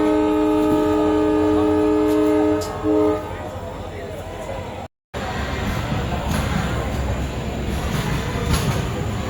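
A train on the Indian railway route through Poonthottam and Nannilam sounds a long steady horn for a few seconds, then rumbles along with rattling carriage noise, heard from on board with a person talking over it.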